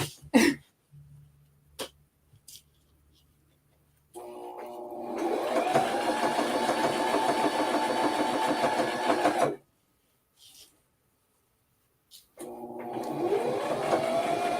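A machine whirs steadily for several seconds, stops, then starts up again after a pause, with brief knocks and clicks in the quiet gaps.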